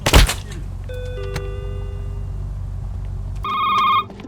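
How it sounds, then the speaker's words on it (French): In the video game Shift at Midnight, a telephone rings with a sharp electronic tone, sounding once and then again after a pause over a low hum, with a thud at the start. "Téléphone! Réponds au tel."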